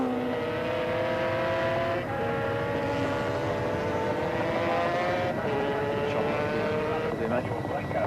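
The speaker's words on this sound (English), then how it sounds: "these two riders pushing both machines to the absolute limit." Racing motorcycles roar around Bathurst during the 1983 Western Underwriters Thousand, loud near engines wailing in sustained high-revving tones that shift pitch as riders change gears and pass, with a continuous rumble underneath.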